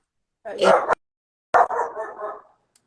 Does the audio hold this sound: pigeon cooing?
no